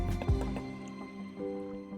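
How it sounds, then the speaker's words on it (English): A Wurkkos WK03 Gold flashlight drops into water, giving a quick splash and dripping, gurgling liquid sounds against a steady background hum. "Dropping the flashlight in water to see if it would be affected."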